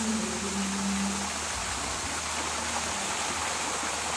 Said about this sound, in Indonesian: Ini ada curug ya, curug mini. Suara gemericik airnya cukup menenangkan jiwa